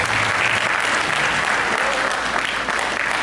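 Dense, steady applause from an audience at a school children's poetry gathering, welcoming a young poet to the stage; sustained and loud, with a faint voice briefly under it at the start.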